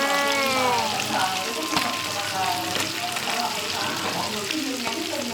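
Fish frying in hot oil, with a steady loud sizzle and crackle of splattering grease throughout, continuous and close, with a voice talking over it.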